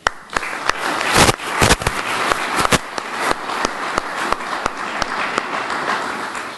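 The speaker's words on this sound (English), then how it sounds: "I'd like to take a moment and simply recognize that with our applause." Outdoor applause from a crowd at the grand re-opening ceremony of a veterans memorial building, sparse and uneven, with loud sharp individual claps and bursts standing out against a softer background of clapping.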